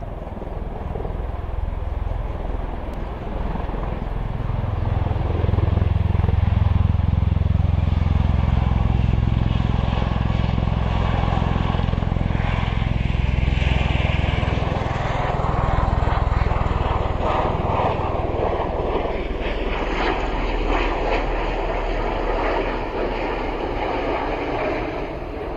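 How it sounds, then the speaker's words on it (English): An Osprey tiltrotor aircraft taxiing out at an airfield, a loud, sustained propeller and engine drone that swells and dips over about twenty-five seconds, heard alone from a moderate distance. "Here we go, another Osprey, not the same one, different one taxiing out"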